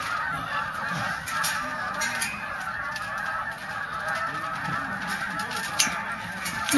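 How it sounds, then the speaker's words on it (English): A large flock of geese honks continuously in a dense, overlapping chorus, steady and moderately loud with no voices. "That is a lot of frigging geese."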